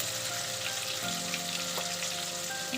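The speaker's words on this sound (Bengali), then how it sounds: "টমেটোটা একটু নরম হওয়া পর্যন্ত কিন্তু আমাকে টমেটোটাকে ভাজতে হবে" Chopped tomatoes with turmeric and salt sizzling in a hot pan, a steady soft crackle and hiss close by with no talking.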